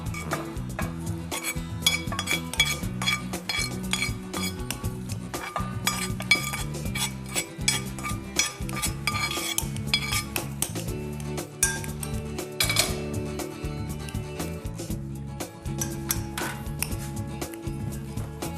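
Potato and shrimp pancake ingredients are stirred in a bowl, with steady scraping and clinking of a utensil against the dish, close and continuous, and kitchen clatter underneath.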